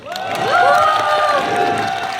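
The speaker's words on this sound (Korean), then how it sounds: "들었어요 방금 박수!" Concert crowd at a K-pop performance for soldiers on the Wimun Yeolcha show, cheering and applauding loudly with high, sliding shrieks and whoops blending into a sustained roar.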